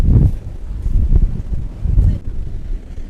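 Strong sea wind at Mulan Bay, an undeveloped bay on the Hainan coast, buffets the microphone in loud, low, rumbling gusts that surge and fade every second or so.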